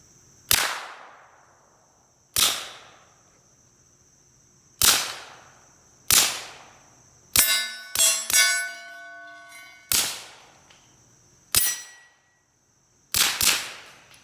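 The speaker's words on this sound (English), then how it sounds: "It's always fun to shoot suppressed." Suppressed Springfield XDM Mod 2 pistol fired at a rubber dummy target, about nine sharp cracks spaced one to two seconds apart with short decaying tails, some followed by metallic ringing pings.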